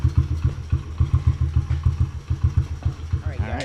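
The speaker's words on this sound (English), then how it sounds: "so we got the bike running" A Honda CRF50 dirt bike's small single-cylinder engine idles close by with a steady, rapid putter and a little mechanical clatter, a brief higher whine near the end.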